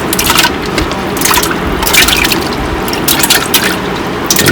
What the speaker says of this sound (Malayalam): നമ്മൾ കുക്കറിലൊരു പകുതി ലെവലിൽ വെള്ളം എടുക്കുക.